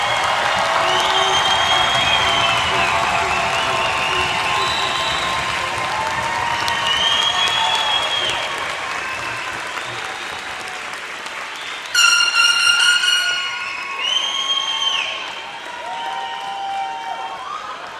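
A graduation commencement crowd applauds loudly and continuously, with scattered cheers and whoops rising in a swell near the end, while some voices carry over the clapping.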